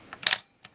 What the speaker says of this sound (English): The shutter on this one is so strong that everything about it is really nice.